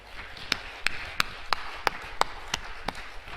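A congregation at a Korean revival and healing prayer meeting claps in slow unison. The claps are sharp, rhythmic and evenly spaced, about three per second, over a soft room murmur.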